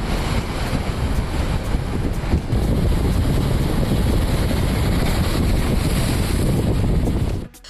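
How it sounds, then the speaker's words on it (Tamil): Strong gale wind roaring across the rough, churning sea on the Rameswaram coast near Pamban, a loud continuous rush of wind buffeting the microphone over crashing waves, cutting off abruptly at the end. "ராமேஸ்வரத்தில் கடலோர பகுதிகளில் மணிக்கு 50 கிலோமீட்டர் வேகம் வரை சூறைக்காற்று வீசுவதால் கடல் கொந்தளிப்பு ஏற்பட்டுள்ளது"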